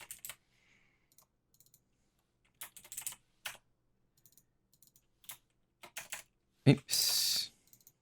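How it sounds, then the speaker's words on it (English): Quick bursts of clicking keystrokes on a computer keyboard, separated by short pauses, ending in a faster run of taps. "We'll just quickly type those out."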